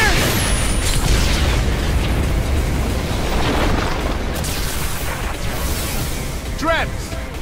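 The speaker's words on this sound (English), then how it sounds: "A cursed cannon!" A cursed cannon blast in the video game No More Heroes 3 fills the clip with a loud, continuous booming roar and rumble, broken by a few whooshing sweeps, under game voices.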